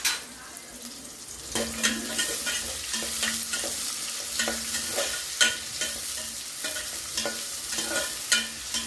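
Onion frying with cumin seeds in a pan over a low flame crackles and hisses steadily, broken by repeated close spatula scrapes and taps as it is stirred.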